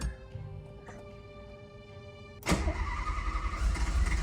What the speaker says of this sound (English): we would try to fire this car again and see if it'll wake up from its deep sleep